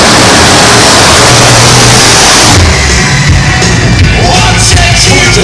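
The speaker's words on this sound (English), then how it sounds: "7 litre plus V8 crammed into the back of that pickup bed" A methanol-fuelled 7-litre-plus V8 of roughly 1300 horsepower, mounted in the bed of a monster pickup truck at Santa Pod, roars at loud, close, sustained full volume, then settles into a rougher, choppier rumble.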